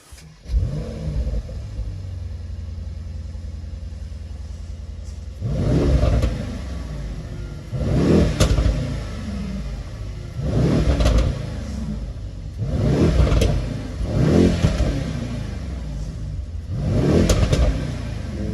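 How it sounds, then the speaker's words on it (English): A 2020 Mercedes-AMG E63 S in Sport Plus mode with its exhaust open revs hard five times in a row, each a loud rising roar with crackling exhaust, separated by short idling pauses; no talking. "change the driving mode to Sport Plus so it automatically opens up the exhaust"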